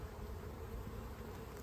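Honey bees buzzing steadily inside a hive, a faint, continuous hum with no voices.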